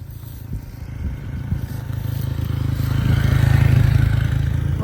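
A motorcycle approaches along an outdoor road, its low engine drone swelling steadily louder over several seconds as it nears and passes, with some clatter early on.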